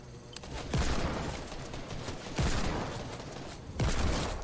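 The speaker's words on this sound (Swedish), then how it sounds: "Det här är sniperskott." Sniper rifle shots in the Fortnite video game: three loud, booming reports about 1.5 seconds apart, each with a lingering echo, over continuous game background noise.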